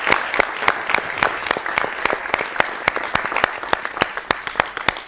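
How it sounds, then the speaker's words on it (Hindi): A studio audience gives sustained applause for decorated soldiers, a Vir Chakra recipient and a Yudh Seva Medal holder, with dense, loud clapping and sharp individual claps standing out rhythmically above the crowd. "आपकी तालियां रुकनी नहीं चाहिए प्लीज।"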